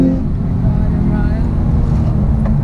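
A car engine holds a loud, steady low rumble with the brake held during a launch attempt, heard from inside the cabin for a few seconds.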